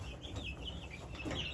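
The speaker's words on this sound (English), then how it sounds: "I think it's a blue-laced Wyandotte rooster right there." Blue-laced Wyandotte rooster among a flock of chickens, steady low clucking and murmuring close by, a continuous busy barnyard chatter with no talk.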